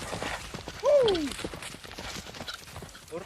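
Hooves clop steadily in a rhythmic gait, with a short horse whinny rising and falling early on, moderately close.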